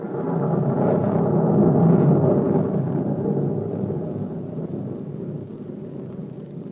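Rain and thunder sound effects in an old-time radio mystery drama: a loud rolling rumble with steady rain hiss swells early and then fades slowly, with no voices over it.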